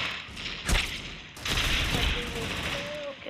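Gunfire in the mobile shooter Critical Ops, with sharp bursts of automatic fire around the start and again midway, followed by steady loud shooting and game effects to the end.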